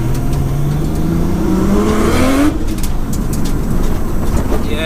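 A 700bhp Nissan R33 Skyline revving hard on a damp road as its wheels spin, a rising engine note that sweeps upward then cuts off, heard from inside the car with faint talk.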